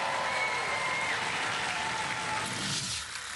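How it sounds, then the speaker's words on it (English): Audience applause for the combat robot Spawn of Scutter at a robot fighting heat semi-final, a dense sustained clapping from the crowd that holds steady and then thins out toward the end. "Ladies and gentlemen, round of applause for Spawn of Scutter."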